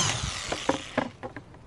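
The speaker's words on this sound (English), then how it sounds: "I think you know what a drill looks like, but we're going to put one" A power drill bores holes in a container for a backyard maggot farm, heard as short whirring, grinding bursts with clicks between them, close and moderately loud.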